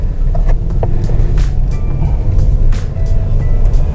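The engine of a Mercedes car hums during a driving lesson, a steady, loud low rumble heard from inside the cabin, with faint light clicks on top.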